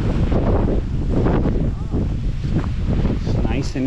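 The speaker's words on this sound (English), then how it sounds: "It's nice and windy." Steady wind gusts buffet the microphone on an exposed mountain plateau in the Sahyadri range, a loud, continuous roar with rustling underneath.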